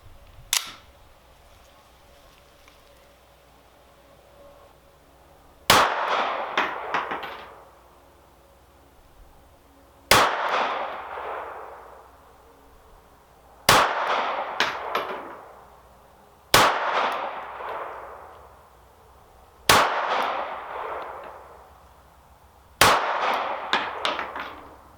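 SCCY CPX4 pistol firing Winchester jacketed flat point rounds at targets, seven sharp, loud single shots spaced a few seconds apart, each followed by a ringing decay outdoors.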